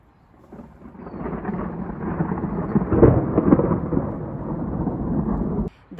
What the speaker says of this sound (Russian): Сейчас будет дождь.